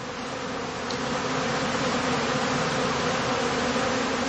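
Bees at a heather skep apiary make a steady, dense, continuous buzz, close and unbroken throughout, with no talking.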